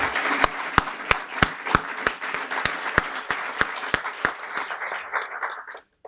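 Audience applause at a Guiding Eyes guide dog graduation in Yorktown, a crowd clapping steadily with one loud nearby pair of hands striking in a regular beat, ending abruptly after about six seconds.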